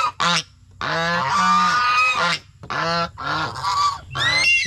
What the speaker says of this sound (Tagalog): Tingnan mo, gansa ito, gansa.